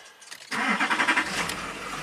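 A Duramax diesel truck engine cranks briefly and catches, settling into a rough, chugging idle close by after a quiet lead-in.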